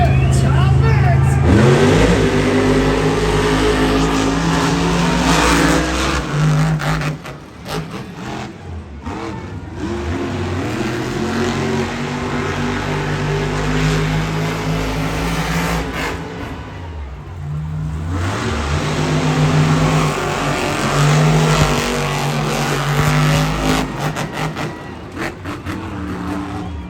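Monster trucks Grave Digger and Max D race at the Monster Jam World Finals, loud revving engines surging and roaring with swelling accelerations, an announcer talking over them in an arena.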